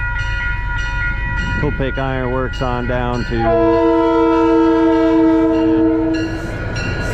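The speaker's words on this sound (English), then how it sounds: "picture that as a 260 wood burner heading from the steelworks" Train rolling past at close range with a loud, sustained horn blast and a steady rumble underneath, recorded near steelworks tracks; someone speaks briefly over it.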